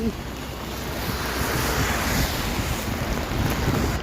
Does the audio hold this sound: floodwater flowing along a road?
yes